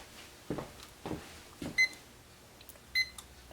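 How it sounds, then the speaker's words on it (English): Several short electronic beeps from a timer being set for steeping tea, spaced apart over a few seconds, with soft button-press thumps between them and no talking. "Let's get the timer on."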